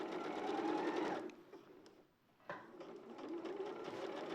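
A sewing machine stitches a quilt in steady, close bursts, running for about a second, pausing briefly, then starting up again and continuing to the end.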